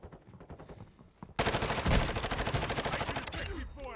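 Rapid automatic gunfire from a first-person shooter firefight, starting faint and distant, then jumping to loud, close bursts of dense repeated shots for the rest of the moment.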